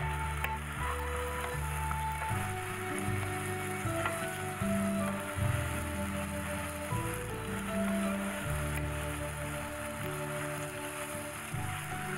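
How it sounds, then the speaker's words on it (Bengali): Onions fry in oil in a pan for a chingri malai curry, giving a steady close sizzle with a dense, continuous crackle that runs under occasional stirring sounds throughout. "পেঁয়াজটাকে আমার ভালোভাবে ভেজে নিতে হবে"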